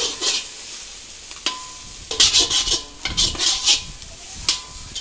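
Egg is stirred into chicken fried rice in a pan: scraping spatula strokes over a soft sizzle, close and irregular, with a few clinks of utensil on metal and no voices.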